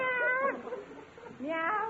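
A voice imitates a cat, giving two drawn-out meows separated by a short pause, close and clear.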